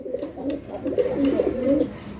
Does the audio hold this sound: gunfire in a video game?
no